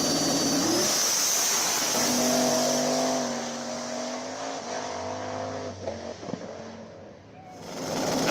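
Drag race cars roar through a burnout, engines revving loud with a sustained droning whine and rising pitch, tire squeal and crowd noise mixed in, fading toward the end.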